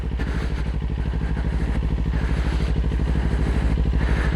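A motorcycle ridden by a learning rider putters steadily at low speed with a throbbing, even engine beat, close and continuous, as the clutch is pulled in and braking begins.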